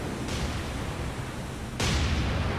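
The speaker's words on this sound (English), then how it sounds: "We've got main guns firing at will, high explosive." Warship main guns firing high explosive shells in the War on the Sea naval game, as two heavy broadband booms a second and a half apart, the second louder and rolling on into a sustained rumble.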